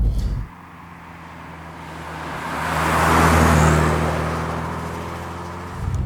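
A 1988 Porsche 944 Turbo S drives past alone, its engine note swelling steadily to a loud, close peak and then easing off before cutting out.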